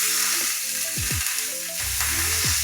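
85/15 ground beef sizzles on a hot griddle for a chopped cheese sandwich, a loud continuous frying hiss broken by several sweeping spatula scrapes.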